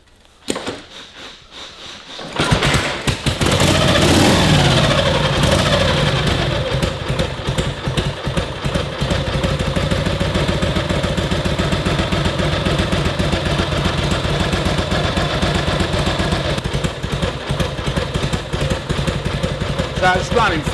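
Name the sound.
WLA motorcycle engine idling after kick start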